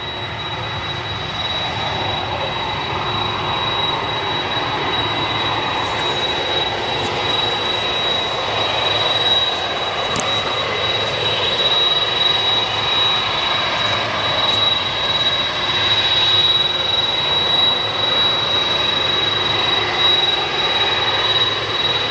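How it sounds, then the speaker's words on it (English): Jet aircraft engines run steadily at Manchester Airport, a broad continuous roar with a whining tone, heard from a distance and holding level for the whole stretch. "The engines are still going, so I'd expect it to be going anytime soon."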